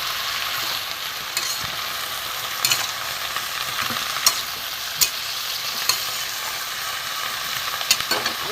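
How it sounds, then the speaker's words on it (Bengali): Spices for a prawn and pumpkin curry fry in a pan with a continuous hiss, while a spoon stirs and scrapes with occasional clinks against the metal. "নাড়াচাড়া করবো"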